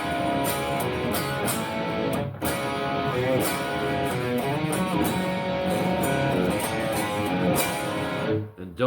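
Electric guitar plays a riff, using hammer-ons and pull-offs in a busy, continuous line of notes with a short break partway through, fairly loud and close with no talking.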